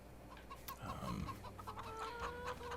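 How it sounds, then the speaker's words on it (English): Chickens clucking in the farming game Farming Simulator 22, several soft clucks and short calls over a low ambient farm background, fairly quiet and continuous. "The chickens."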